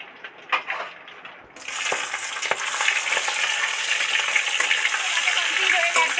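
Hilsa fish pieces with their fat are dropped into hot oil, setting off a loud, steady sizzle that swells after a brief quieter start and carries on crackling throughout, with a few clinks of utensils.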